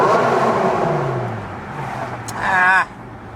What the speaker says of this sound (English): fire up that V10.